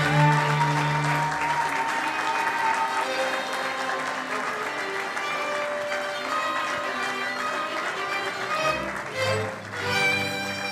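An audience applauds at a ceremony unveiling the logo for the Democratic Republic of Congo's 50th anniversary, sustained dense clapping over a musical background, easing off briefly near the end before swelling again.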